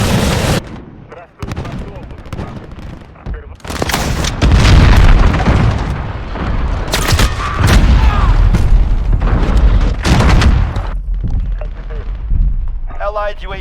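Cruise missile explosions in the Call of Duty Modern Warfare video game, a run of loud, heavy booms and blasts rolling together for several seconds, with gunfire crackle and a voice announcer's callouts around them.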